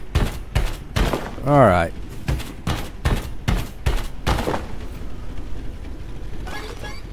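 A mech tool blasting rocks in the farming game Lightyear Frontier, a rapid series of sharp, punchy blasts, about a dozen in steady rhythm, with a whirring tone in the middle and a brief spoken word.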